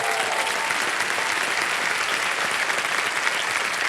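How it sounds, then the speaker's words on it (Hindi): Loud, steady applause from a studio audience on a quiz show set, sustained without a break for the whole stretch, honoring a contestant's parents who came along as companions. "मैं चाहता हूं कि जोरदार तालियां उनके लिए"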